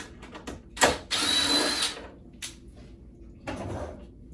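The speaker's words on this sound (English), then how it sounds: "First thing you're going to do is remove these two Phillips head screws out right here." Phillips head screws being backed out of an exam table with a power screwdriver, giving two close bursts of whirring drill noise separated by short pauses and a few handling clunks.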